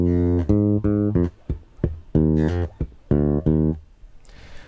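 A clear, close bass guitar plays a repeated lick across beats one to three, including a hammer-on, with distinct plucked low notes in groups and no voices.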